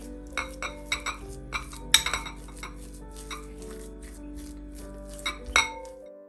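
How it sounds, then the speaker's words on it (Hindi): A spoon clinks repeatedly against a bowl while food colouring is mixed into coconut ladoo mixture, with irregular sharp taps and scrapes close by and no talk. "कलर को हम अच्छी तरह मिक्स कर लेंगे।"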